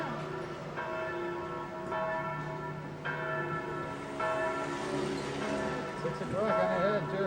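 A church bell in Italy tolls in slow, steady strokes with long ringing overtones, heard outdoors at a distance over street ambience and light background chatter.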